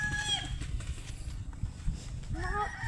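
An old chicken clucks and calls on a farm, with brief cackling bursts near the start and again toward the end over a low background rumble.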